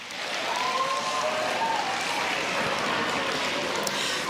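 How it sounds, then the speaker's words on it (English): An audience at a school live stream claps steadily for several seconds, the dense applause holding an even level throughout, with faint background voices underneath. "Please stand and give them a round of applause."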